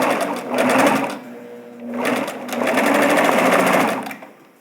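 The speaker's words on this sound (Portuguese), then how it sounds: "vou rebater essa costura, lembrando de fazer o retrocesso" A sewing machine stitching a French seam on panties, with three bursts of fast, close motor whirring and needle clatter separated by short pauses.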